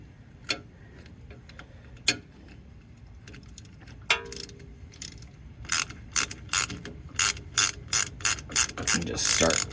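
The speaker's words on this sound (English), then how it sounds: "I have a pass-through ratchet right here." A pass-through ratchet cranks on front steering components of a 1997 Ford F-150: a few scattered metallic clinks, then close, rapid bursts of ratcheting clicks repeating in a steady rhythm.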